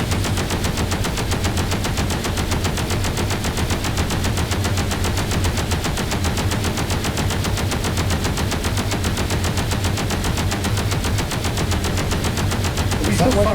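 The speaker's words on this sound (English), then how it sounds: "is that weapon going to stop firing at any point?" Rapid, continuous automatic weapon fire from a ship in the Space Engineers game, a dense, loud, unbroken rattle of shots running without pause.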